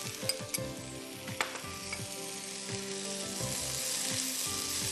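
Vegetables sautéing in a pan for a creamy white soup with beans and nutmeg, a steady faint sizzle broken by a few sharp stirring clinks and scrapes, no voices.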